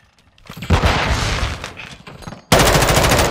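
Loud, close automatic gunfire from the Call of Duty: Modern Warfare II video game (2022) rattles in a dense burst, followed by a second sharper volley in the last second.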